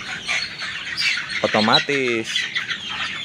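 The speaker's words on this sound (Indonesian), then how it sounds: "Bisa teman-teman lihat ayam-ayam saya pada lahap makannya ya." Chickens on a farm vocalize while eating manufactured feed, with short squawks and calls rising over steady background clucking and someone talking.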